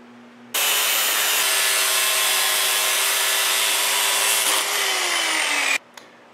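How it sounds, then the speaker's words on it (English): An angle grinder cuts through a metal handle on a power hammer with one steady, loud, high-pitched whine lasting about five seconds. The tone drops slightly near the end before the grinder shuts off. "I'm going to take the angle grinder and shorten it about 1 inch"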